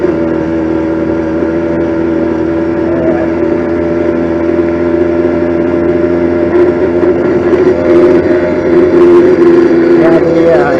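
A motorized bicycle with a stock 50cc four-stroke engine cruises along, its motor humming in a steady, smooth drone close to the rider, with a slight swell in pitch toward the end.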